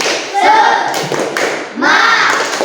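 A classroom of students performs the tepuk semangat clapping routine, sharp rhythmic claps in short patterned bursts with young voices chanting along.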